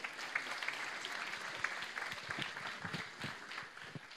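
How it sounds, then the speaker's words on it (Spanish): A crowd at a university faculty of informatics welcome day applauds to greet a speaker, a steady wash of many hands that sounds faint and distant, holding evenly for about four seconds. "vamos a recibir con un fuerte aplauso a Diego Castillo Sánchez"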